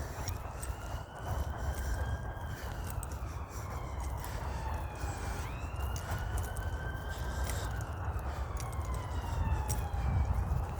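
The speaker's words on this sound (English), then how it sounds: "Hear the sirens?" Police sirens wail in the distance through misty morning air, two rising-and-falling tones sweeping repeatedly over a steady low rumble of background noise, continuous and moderately loud throughout.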